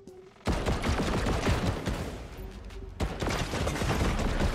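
The lock-on pistol in Fortnite fires in rapid bursts of sharp, crackling gunshots, dense and continuous after a short quiet start, with a brief break midway before the shooting resumes.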